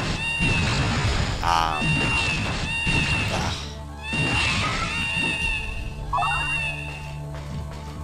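A cat meows several times in a room during a Baroque gameplay session, drawn-out mewing calls rising and falling over a steady background, with a voice talking around them.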